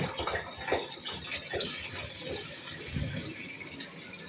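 Water rushes and gurgles in a steady swirling tornado flush of a wall-hung toilet, loud at first and then settling into a softer trickle.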